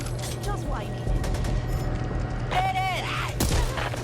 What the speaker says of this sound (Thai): ระเบิดขวด